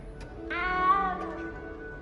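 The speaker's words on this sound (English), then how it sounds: "You don't need to be frightened, little cat." A cat in the Hogwarts Legacy video game gives one clear, drawn-out meow inside the castle, a single close plaintive call rising and fading over about a second against quiet game ambience.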